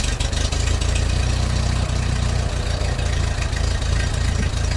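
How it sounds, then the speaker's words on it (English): An old tractor engine idles steadily after starting right up, a loud low rumbling chug that keeps an even rhythm throughout. "An old tractor. Sounds good, yeah."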